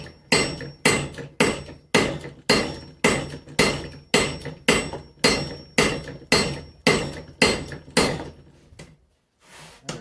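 A hammer pounds hot steel on an anvil while forging an axe, about sixteen loud, evenly spaced blows, each with a ringing decay, ending in a short quiet.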